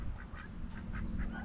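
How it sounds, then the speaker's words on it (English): Mallard and pekin ducks quack in a quick, rhythmic series of short calls, fairly faint and a little distant, with no talking. "We got more ducks. So that's a mallard,"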